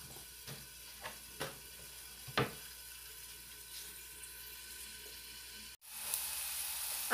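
Eggs with mustard greens cook in a pan, giving a faint, steady sizzle with a few soft clicks and taps, ending in a brighter hiss as the lid or pan shifts.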